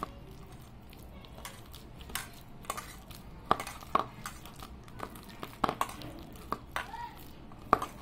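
Cooked vegetables are mixed in a pan with a utensil, giving scattered scraping clinks and soft squishy stirring over about eight seconds, fairly quiet and close, with no talking.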